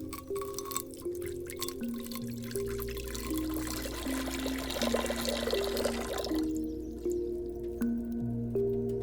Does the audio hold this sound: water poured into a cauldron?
yes